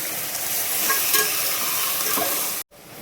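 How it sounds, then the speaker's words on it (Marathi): Mutton stirred in a hot pan with browned masala gives a loud, steady frying hiss with scraping stirs throughout, then cuts to a brief silence near the end before the sizzle resumes. "आता आपण याच्यामध्ये मटण टाकून घ्यायचं. चांगला हलवून घ्यायचं आहे बघा."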